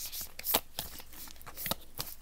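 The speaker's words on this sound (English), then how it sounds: "let's pull more cards for Gemini" Tarot cards are shuffled close up in a series of quick riffling, slapping bursts at an uneven rhythm, fairly quiet and with no speech.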